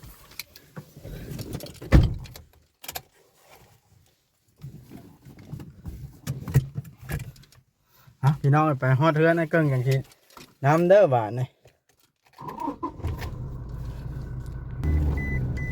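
Car being unlocked and entered, with keys jangling, a door thud and an engine started to run the air conditioning, heard in short bursts under close conversational speech.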